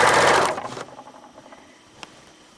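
A sewing machine stitches quilt binding in a loud, fast, buzzing run for about half a second, then slows and stops, leaving faint handling noise and a single soft click.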